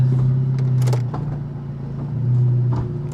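A car engine idles with a loud, steady low hum that wavers slightly, heard close by with occasional mechanical knocks and no talking.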